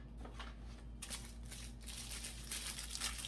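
A plastic bag crinkling as a beauty subscription box is unpacked, close rustling and crackling in irregular bursts that grow busier toward the end, over a low steady hum.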